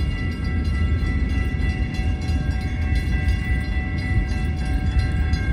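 A Norfolk Southern freight train rumbles past at Oak Street, a loud, continuous low roar of wheels and cars with a sustained horn tone running through it.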